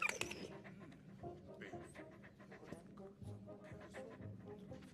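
Dog panting in the video game Valiant Hearts, steady rapid breaths under a busy game soundtrack with some voice-like sounds, moderately loud throughout.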